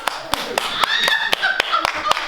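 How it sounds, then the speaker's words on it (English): A handful of sharp, evenly spaced claps from a small theatre audience sound close, with voices talking and exclaiming over them. "Round of applause!"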